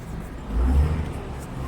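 A small Eicher truck loaded with two tractors drives past on a road near Talala Gir, its low engine rumble swelling briefly as it nears and then easing off, heard alone at a moderate distance.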